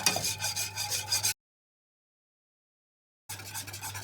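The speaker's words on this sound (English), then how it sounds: "we put it over low heat, and we don't stop stirring at all" Milk pudding mixture is stirred steadily in a pot over low heat, giving a close, continuous rubbing and scraping texture that stops for a silent gap of about two seconds and then resumes.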